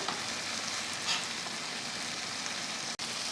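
Fish pieces coated in masala fry in a pan, producing a steady, dense sizzle that holds at an even level throughout, close up and without speech.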